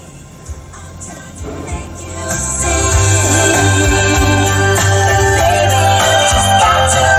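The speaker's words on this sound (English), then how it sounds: "Let's test out the sound system." Music plays through the factory sound system of a 2023 Subaru WRX with manual transmission, heard inside the cabin: quieter at first, then steady and full with strong bass from about three seconds on, with no talking.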